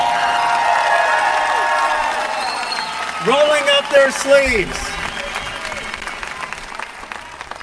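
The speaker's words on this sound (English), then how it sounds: "Let's give them a round of applause." Crowd applause and cheering at a political town hall in California, a dense wash of clapping that carries the whole stretch while a voice speaks over it.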